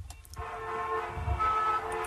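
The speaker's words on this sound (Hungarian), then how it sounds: "Nagy a forgalom." Heavy road traffic hums at a steady level, with a couple of short car horn toots near the start and a low rumble of passing vehicles after them.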